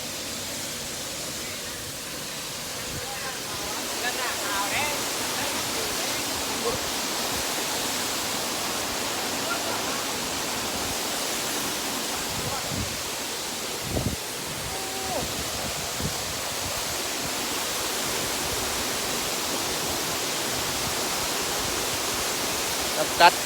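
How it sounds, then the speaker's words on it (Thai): Steady broadband rush of the Tat Nam Kat waterfall in Oudomxay, a continuous hiss of falling water heard from a distance, with faint footsteps and brief sounds over it. "มีเสียงน้ำตกวะ"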